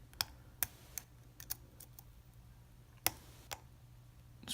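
Pins inside a lock clicking as it is picked, a handful of faint, sharp ticks spaced irregularly over a quiet background.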